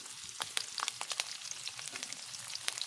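Chopped garlic and green chili frying in hot oil, a lively crackling sizzle with sharp irregular pops scattered over a soft steady hiss, close and moderately loud.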